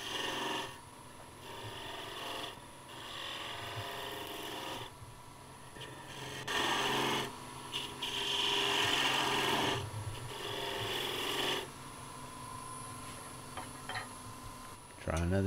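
Wood turning on a lathe as a gouge cuts the waist of an angel ornament: repeated rasping, scraping bursts of tool against spinning wood, coming in uneven passes of a second or two, close and fairly quiet.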